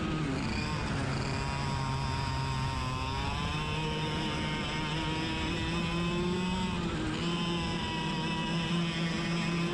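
A 100cc racing kart engine screams at high revs during a race, holding a sustained, buzzing whine that rises and falls slightly in pitch as the kart moves through corners, loud and continuous.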